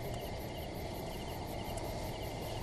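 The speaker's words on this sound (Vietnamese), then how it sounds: "chỉ có gió lạnh thổi hiu hắt, tiếng dế kêu ren rét" Crickets chirp steadily in a quiet, cold night setting, a continuous high-pitched trilling with a faint low rumble of wind beneath, even and unbroken throughout.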